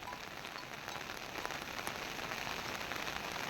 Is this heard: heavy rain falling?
yes